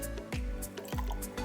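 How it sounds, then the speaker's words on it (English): Water drips and trickles onto pepper seeds in a container, a few soft liquid plops in quick succession, close and clear with no speech. "Still add some water"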